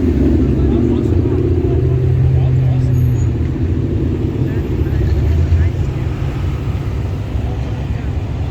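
Road traffic passing at the Lake George car show, a loud continuous engine rumble and roar from cars going by up close, dense and steady throughout.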